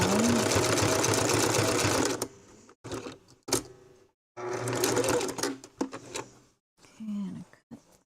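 A sewing machine stitches a coiled rope bowl through a thick stitch, running loud and steady for about two seconds, then in short bursts broken by brief pauses.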